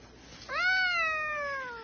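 A cat gives a single clear, drawn-out meow that rises and then slowly falls, fairly close and alone over faint room noise.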